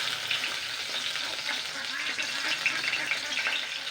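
Maida dough balls deep-frying in hot oil, a steady dense sizzle and bubbling that holds close and fairly loud throughout with no pause.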